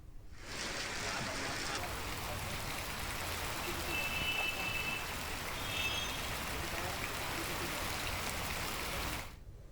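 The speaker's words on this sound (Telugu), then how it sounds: "హైదరాబాద్ నగరంలో వర్షం దంచుకొట్టింది." Heavy rain over Hyderabad city, a broad steady hiss of downpour with a faint rumble beneath it and a few thin electronic beeps in the middle, constant and fairly loud before fading out at the end.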